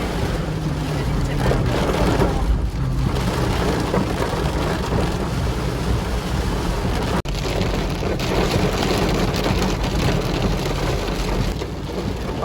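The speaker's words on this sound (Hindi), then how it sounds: "बारिश इतनी तेज है" Heavy rain pours down at Jakhan in a steady, loud, dense hiss of drops hitting surfaces, continuous throughout with a brief dip in the middle.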